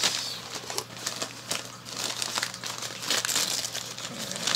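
A plastic bag holding water lettuce is handled up close, giving continuous crinkling and rustling in irregular bursts, with no talk.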